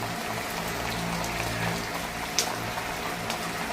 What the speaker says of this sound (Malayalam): നല്ല രീതിയിൽ മഴയും പെയ്യുന്നുണ്ട്.